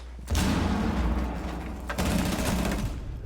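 Gunfire in Rainbow Six Siege during a 1v1 tournament match: a loud, sustained stream of rapid shots with booming low thuds, starting abruptly and continuing with a brief surge midway.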